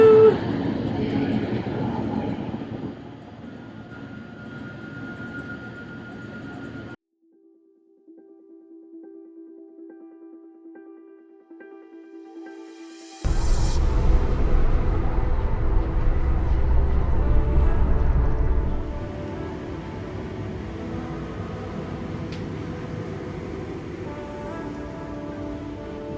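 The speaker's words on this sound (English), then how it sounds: "here's a quick view of the train platform" Ambience on a train station platform in France, with a broad rumble of rail traffic and crowd murmur, a short quieter stretch with steady tones, then a loud low roar as a train passes close by before settling back to busy platform noise.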